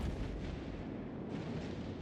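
Naval guns fire in the warship battle game World of Warships Legends, heard as a muffled, low, rolling boom of distant artillery that rumbles steadily throughout without any speech.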